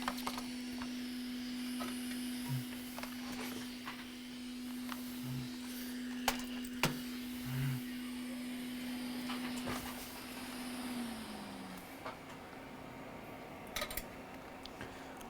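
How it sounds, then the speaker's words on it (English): Soldering fume extractor fan at a bench where dead MacBooks are being repaired, a faint steady whirring hum with a constant tone that winds down near the end, punctuated by a few soft clicks and taps. "I think it's a wise idea to use my fume extractor."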